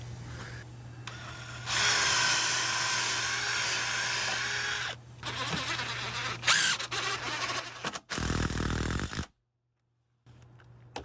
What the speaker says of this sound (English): each stringer is gonna get 5 of these 4-inch screws going in